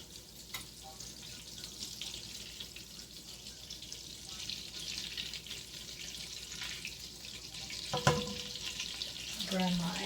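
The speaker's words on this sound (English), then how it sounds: "Butter in there. I'm just going to get that melted, nice and melted." Butter melts in a pan with a faint, steady sizzling hiss that rises slightly near the end, where a voice briefly speaks.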